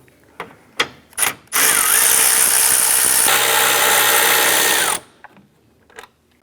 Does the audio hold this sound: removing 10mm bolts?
yes